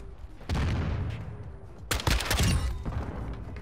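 LM-S rifle gunfire in Modern Warfare 2 online multiplayer, two loud close bursts of shots about a second and a half apart, with game ambience between.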